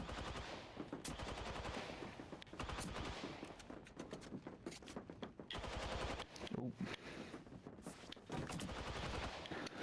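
Video game gunfire: rapid automatic weapon bursts rattle almost nonstop, loud and close, with brief gaps between volleys and no talk.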